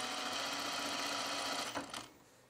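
A sluggish sewing machine runs continuously up close with a strained, even whir, then slows and stops near the end.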